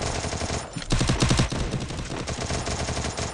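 A Thompson submachine gun in Garena Free Fire fires in rapid, sustained bursts, loud and close, with a brief pause before another dense stretch of automatic gunfire.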